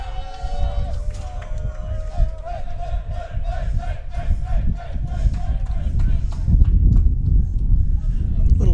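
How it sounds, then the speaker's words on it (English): Rhythmic chanting and shouting from the Delaware Tech dugout at a college baseball game against CCBC Dundalk, a group of voices repeating a cadence over crowd noise that grows louder toward the end. "Chant from the Deltec dugout."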